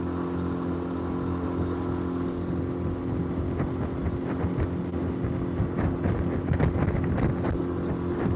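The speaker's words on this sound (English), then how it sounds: "The wind calmed down a little bit. Still blowing like crazy across the middle of the lake" Strong wind gusting across the middle of Lake Morena, buffeting the microphone on a fishing boat, with a continuous low rumble and roaring bursts that swell toward the end.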